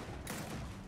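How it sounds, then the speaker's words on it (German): A sudden burst of gunfire-like cracks and splintering bursts as apple crates explode under gunfire in Gears of War 4, loud and dense, cutting through ongoing noisy game sound. "Die Äpfelkisten da hinten sind richtig explodiert."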